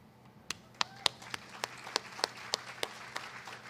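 A lone person claps slowly at a mayoral affordable housing celebration, about a dozen sharp, evenly spaced claps rising clearly above a quiet room.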